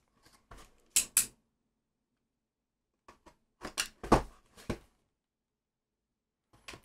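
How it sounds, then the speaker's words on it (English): Scissors snip open Weiss Schwarz trading card trial deck packs, with a few short, crisp cutting and crinkling bursts in two separate clusters, close and fairly quiet against silence. "I guess I could cut these open ahead of time."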